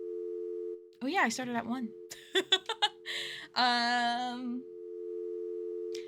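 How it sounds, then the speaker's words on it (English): A steady electronic phone tone hums under a livestream and holds nearly unbroken, while someone talks and laughs over it in short bursts and then falls silent. "You guys can listen to the phone tone."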